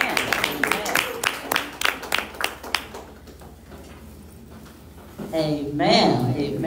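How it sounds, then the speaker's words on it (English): A church congregation claps in a quick, sharp burst of separate handclaps that thins out and stops, followed by a voice speaking and an amplified exclamation near the end. "Let's give God a hand clap."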